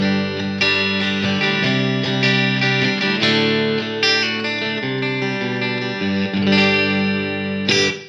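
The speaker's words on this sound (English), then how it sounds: "I quite like the split coil sounds. It's very kind of chimey, nice for strummed chords." Chimey, clean electric guitar strumming chords with split-coil pickup sound on an ESP LTD M-1 Custom '87, bright and ringing with a steady rhythm, played alone with some effects shimmer.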